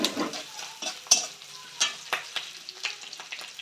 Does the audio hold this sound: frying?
yes